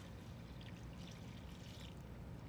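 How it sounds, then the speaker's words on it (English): Chicken stock being poured into a pan of curry thickened with flour, a soft, faint, continuous trickling pour with light splashy bursts, heard alone without any talking. "we're about to pour some chicken stock in there"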